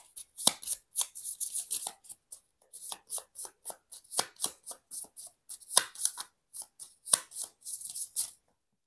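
Tarot cards shuffled by hand at close range in repeated crisp riffling bursts with short pauses between them, and no voices.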